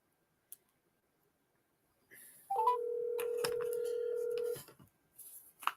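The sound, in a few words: telephone line ringing and dialing tones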